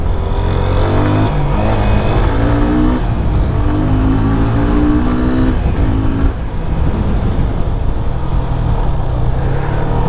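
A Yamaha FZ25 BS4 naked motorcycle on city streets, its engine loud and close, revving up and down through gears with rising and falling pitch sweeps, then settling into engine-braking drone.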